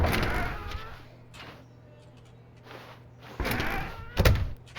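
A door opens and shuts in The Stanley Parable video game, with a few soft knocks and a sliding, thudding movement over a faint low hum. Sharper bangs come near the end.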